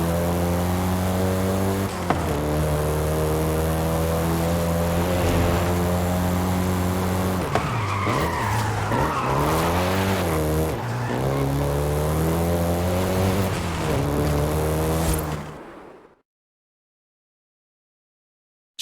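Volkswagen Golf GTI hot hatch engine in Forza Horizon 5, a steady loud drone that swells and dips with shifting revs and stays close and continuous for about fifteen seconds, then cuts to silence.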